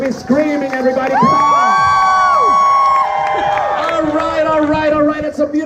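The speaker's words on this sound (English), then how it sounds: "You're supposed to be screaming," A crowd at Epcot screams, whoops and cheers loudly together, with many overlapping voices rising and falling in excited shrieks for several seconds.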